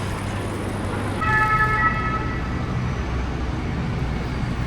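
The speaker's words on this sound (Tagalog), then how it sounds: "Emergency, yung ambulansya." An ambulance siren wails along a street near a bus stop, starting about a quarter of the way in and holding steady, moderately loud above a constant rumble of traffic.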